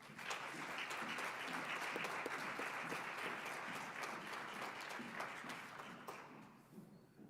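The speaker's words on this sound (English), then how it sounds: "Let's give Jacob Varga a round of applause." Applause from the audience at a university awards ceremony honoring a student, a sustained, even round of clapping that stays full for several seconds and then thins slightly toward the end, heard at a moderate distance.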